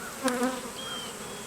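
Bees buzzing at a backyard beehive with brood frames, a brief close hum with a few sharper rising buzzes as individual bees pass near.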